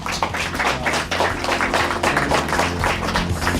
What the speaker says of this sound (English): Let's give a wonderful round of applause to our speakers.